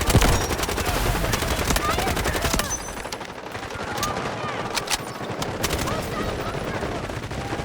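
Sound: gunfire in the video game Delta Force

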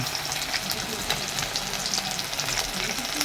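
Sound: norala fish frying in hot oil at a fair stall

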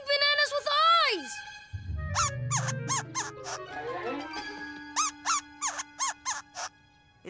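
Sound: baby squirrel monkey squeaking

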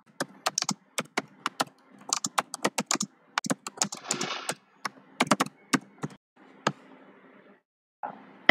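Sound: typing JavaScript code on a computer keyboard

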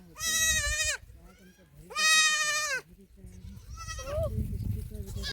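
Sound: goats bleating

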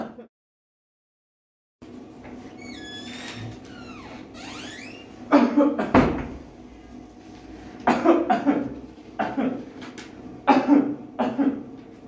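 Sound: child coughing

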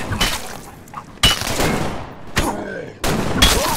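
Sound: gunfire in a video game

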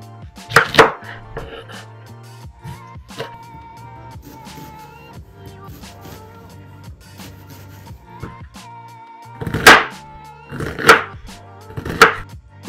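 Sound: knife chopping onion

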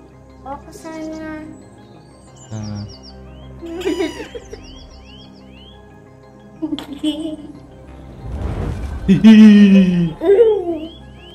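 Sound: bird calls in a video game

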